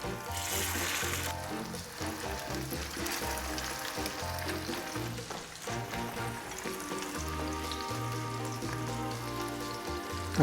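Fish patties frying in a pan give a steady, soft crackling sizzle throughout, faint and continuous with music playing underneath.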